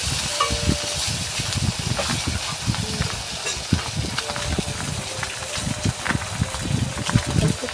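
Fish frying in oil in a small wok makes a continuous crackling sizzle, broken by irregular scraping and stirring knocks, close and moderately loud.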